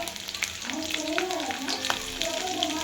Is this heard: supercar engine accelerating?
no